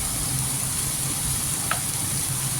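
Cooked-down masala with turmeric and chilli powder fries in a pan for a pomfret fish curry, giving an even, close hissing sizzle with a faint stir, with no speech.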